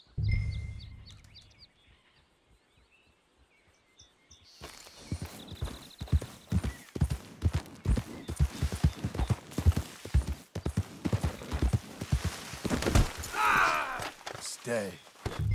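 Horse hooves clip-clop steadily and fairly close in Red Dead Redemption 2, a brisk rhythmic trot beginning after a few seconds of near silence, with faint birdsong in the outdoor background.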